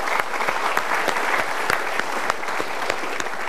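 An audience at a motivational talk applauds steadily, a dense, even wash of many hands clapping that holds at the same level throughout with no voices on top.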